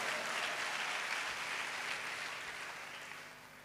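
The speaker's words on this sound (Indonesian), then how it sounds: "Tepuk tangannya meriah." Applause from a church congregation during an evening service, a steady wash of clapping that fills the whole clip and slowly fades toward the end.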